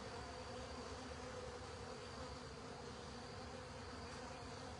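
Honey bees buzzing densely and continuously around an open hive during a spring hive check, a loud, close, unbroken drone with no talk.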